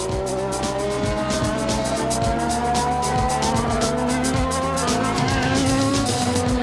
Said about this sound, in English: 3 laps later, Pantano outbrakes himself, and Antonio Pizzonia reclaims 3rd place.